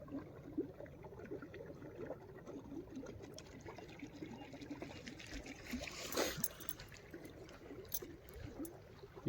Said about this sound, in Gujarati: ઓલા કેળામાં પાણી જાય છે હજી એટલે ગયું મોટર ચાલુ કરીને આવ્યો હું